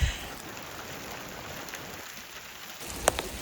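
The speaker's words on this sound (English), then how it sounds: "It's raining a little harder now." Outdoor rain in the Montana backcountry during a thunderstorm, a steady soft hiss of falling drops with a few sharper nearby taps and knocks toward the end, no voices.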